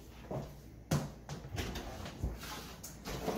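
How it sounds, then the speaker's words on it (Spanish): An indoor door is opened to let a visitor in, heard as several soft thumps and clunks of handling and latch with low background noise and no speech. "Dame yo abrir la puerta de hermana Sara."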